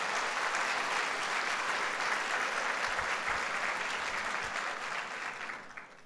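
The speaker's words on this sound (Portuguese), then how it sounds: "Quer aplaudir Jesus?" A church congregation at a Sunday service applauds in a sustained, dense wash of clapping that holds steady before tapering slightly at the end.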